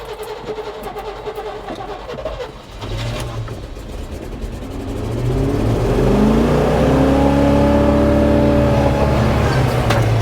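A 1986 Chevrolet K30 dually truck in four-wheel drive revs hard while doing donuts, its engine climbing into a loud, sustained roar that swells and holds close by.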